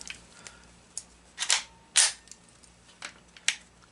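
Dry-fire trigger pulls on a Taurus TX22 pistol loaded with dummy rounds: sharp mechanical clicks spaced about half a second apart, the loudest pair near the middle, close-up and quiet, with no talking.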